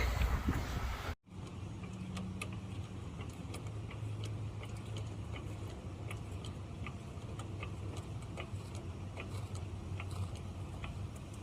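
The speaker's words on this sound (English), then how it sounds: "We'll go ahead and start jacking the vehicle up." A car jack working under a Cadillac Escalade to raise it for a flat tire change, heard as a steady, faint run of small repeated ticks and clicks after a brief louder opening moment.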